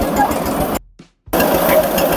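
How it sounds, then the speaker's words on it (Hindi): A mobile asphalt plant machine runs during road tarring on the Tipola–Kafda motor road, a steady broadband mechanical roar that cuts out for about half a second midway, then resumes at full loudness. "इसको कहते हैं कि ये मोबाइल प्लांट है और इस मशीन से अब ये जा रहा है इसमें"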